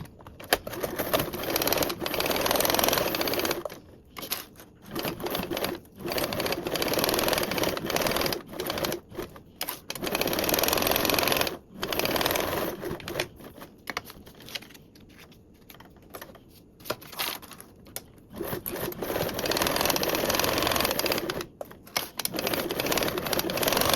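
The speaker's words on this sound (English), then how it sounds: "And now you can go baste these one around with a 1/8 seam allowance." A sewing machine basting fabric pieces with a 1/8 inch seam allowance while a Belmont Compact pattern is sewn, a fast close whirring stitch in bursts broken by short pauses.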